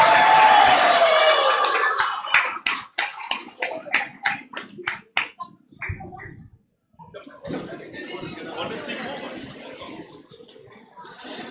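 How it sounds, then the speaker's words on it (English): Parents at an awards ceremony clap after a performance, a loud burst thinning into scattered individual claps, then a pause and faint murmuring and shuffling with some talk. "Parents, I think you can clap louder for this amazing performance."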